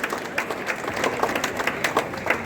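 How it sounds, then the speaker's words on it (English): Audience at a school Goa Liberation Day celebration applauding after a performance, brisk, lively clapping filling the room at close range for the whole stretch. "round of applause for their wonderful performance."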